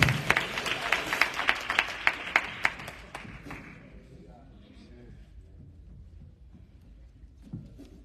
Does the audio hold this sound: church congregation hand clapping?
yes